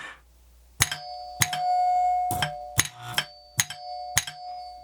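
An electric doorbell chime rings several times in a row, sharp metallic strikes with ringing tones, close and fairly loud, with a low hum between rings.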